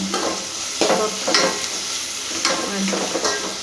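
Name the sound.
beans frying in oil while being stirred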